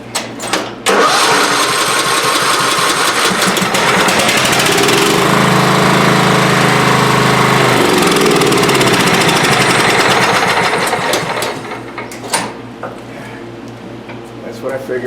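Kohler 16 engine on a Craftsman mower starting after a carburetor change: a loud, close cranking roar that catches and runs steadily for several seconds before dying away with a sputter.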